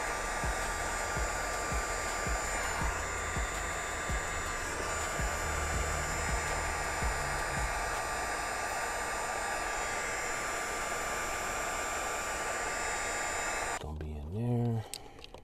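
Steady, loud blowing roar of a heat gun shrinking heat-shrink tubing onto a wire during a car audio install in a Chevy Malibu, running continuously before cutting off near the end.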